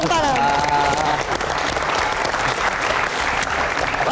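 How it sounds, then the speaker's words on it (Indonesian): A studio audience on a TV talk show about the Jakarta regional election breaks into loud, sustained clapping. A brief voice sounds at the start. "Kita kasih tepuk tangan."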